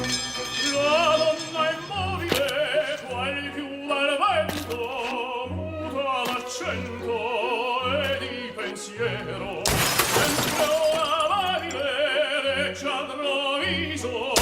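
A BMW 7 Series car window shatters in one sudden, loud burst of breaking glass midway through, cutting across operatic singing and music that play before and after.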